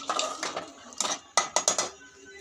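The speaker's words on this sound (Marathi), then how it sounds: "आणि आता आपल्याला ह्याला हलवून घ्यायचं आहे" A metal spoon stirs rajma inside a pressure cooker, making a series of close, sharp clinks and scrapes against the metal pot in uneven bursts.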